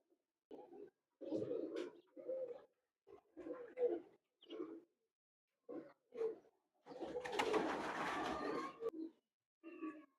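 A male Teddy pigeon, about eight or nine years old, coos up close in repeated low, throaty phrases separated by short pauses, with one longer, rougher stretch in the middle and no other sound between calls.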